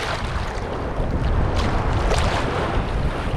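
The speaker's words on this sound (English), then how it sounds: "Oh, we got some big waves coming in." Large ocean waves rolling onto a beach at Progreso, Mexico, heard as a loud, continuous roaring wash with wind buffeting across the microphone and no voices.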